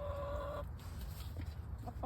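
Backyard chickens clucking close by in a garden, a short bright tonal call at the start followed by low, busy clucks and rustling.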